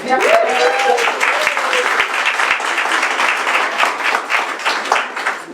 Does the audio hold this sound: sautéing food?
no